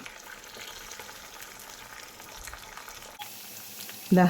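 Chempalli (red snapper) fish fries on a low flame, a soft, even crackle and sizzle with light turning noises, fairly quiet, then a short louder bump at the very end.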